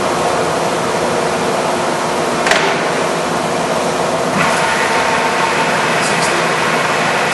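A heavy-duty American Pacemaker lathe runs on its 15-horsepower main drive motor, giving a steady, loud broadband whir with a couple of faint metallic clanks partway through.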